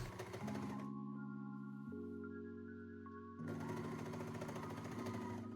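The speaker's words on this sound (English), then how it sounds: "There is something very satisfying in serging a gathered fabric." A serger overlocking the edge of gathered dress fabric, a close, loud, fast whirring stitch that eases into a steadier hum midway and then speeds back up.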